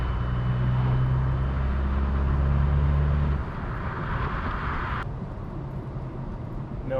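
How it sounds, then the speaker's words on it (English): A 193 bhp Skoda Fabia vRS 1.9 PD TDI diesel pulls hard in 6th gear from about 50 mph, heard from inside as a loud, low steady engine drone that abruptly drops to a lighter road and wind roar partway through. "My 6th gear, 50 mile an hour, put your foot down,"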